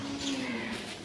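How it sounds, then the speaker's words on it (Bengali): A cow moos briefly inside a shed on Eid ul Azha, a single short low call, fairly close and steady over faint background noise. "এর ভিতর গরু আছে দুইটা"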